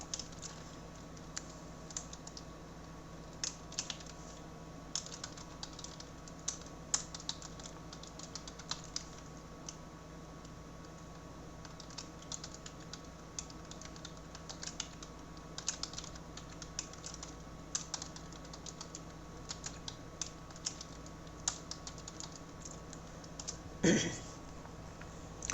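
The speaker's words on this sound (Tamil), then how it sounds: "இதெல்லாம் டைப் பண்ணிக்கிறேன்." Typing on a computer keyboard continues for a long stretch at close range: faint, irregular clicks and taps in a quiet room, with one louder clack near the end.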